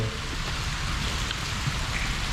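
Rain pouring down on Koh Samui, Thailand during the rainy season, a thick continuous wash of drops pattering on surfaces, loud and close with no voices over it.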